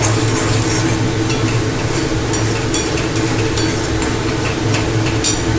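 Spice paste with salt and Kashmiri chilli stir-fries in oil for an egg dish, a continuous close sizzle with faint scraping stir strokes and a low steady hum beneath.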